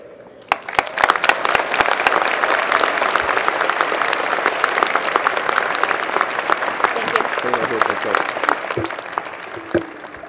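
Applause at an engineering school commencement ceremony, a large crowd clapping steadily and loudly for about ten seconds with scattered cheers and voices mixed in.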